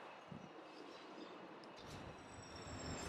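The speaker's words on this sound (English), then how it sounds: "Ah, those trains, they're off schedule." A train in a video game rumbles past with a steady roar, faint wheel squeal and a soft high whine, growing slightly louder toward the end, with no talk.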